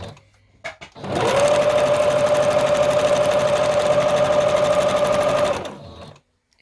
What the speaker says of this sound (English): I love listening to the sound of the sewing machine